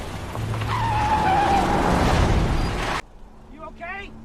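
A car skids along a road and screeches to a stop, a loud, noisy tire squeal lasting about three seconds before cutting off abruptly, followed by a voice speaking.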